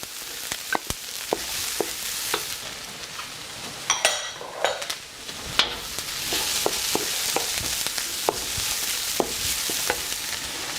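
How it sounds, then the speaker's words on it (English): Mushrooms sizzle steadily in an oiled pan while cooking fried rice, a loud hiss with frequent sharp clicks and scrapes of a utensil stirring against the pan. "You should be hearing that sizzle."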